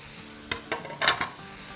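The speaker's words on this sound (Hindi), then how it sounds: "अब टमाटर के साथ 2 मिनट सॉटे करेंगे ताकि टमाटर थोड़े से सॉफ्ट हो जाए" Chopped tomatoes sautéing in a pan over medium-high heat, a soft sizzle with a handful of brief stirring scrapes clustered near the middle, close and fairly quiet, no voices.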